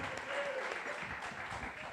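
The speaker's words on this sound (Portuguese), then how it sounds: "Venha ministério, aplauda." Church congregation applauding during a worship service, a steady, moderately quiet spread of clapping with faint voices beneath it.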